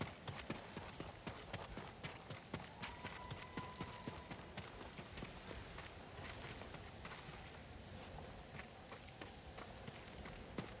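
Horse hooves in the video game Ghost of Tsushima, a faint, steady run of clip-clops beating at a brisk rhythm over a soft bed of ambient noise.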